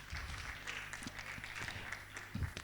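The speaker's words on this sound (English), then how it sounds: "Please, a round of applause to them." An audience at an SME business festival applauds the panelists, a soft, distant wash of clapping with a few low thumps and murmurs underneath.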